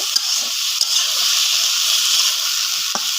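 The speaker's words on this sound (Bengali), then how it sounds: "এখন এটাকে সুন্দরভাবে আমাকে নাড়াচাড়া দিয়ে একদম কষাতে হবে ভালোভাবে মশলার সাথে" Bitter gourd with spices being stirred in a pan on a clay stove, a steady bright sizzle and hiss with a few soft scraping stirs, close and continuous, no voices.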